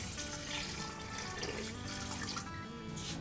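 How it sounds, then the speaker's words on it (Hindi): About a glass of water is poured into keema cooking with turmeric, salt and cumin for an aloo keema karahi, a continuous splashing, gurgling rush heard close and alone, without a break. "और अब इसमें पानी डाल देंगे तकरीबन 1 गिलास।"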